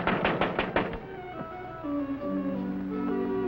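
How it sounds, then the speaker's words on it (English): A man knocks on a house door, a quick series of about six sharp raps in a row, followed by a quieter thud and some background music. "That man knocking on the door."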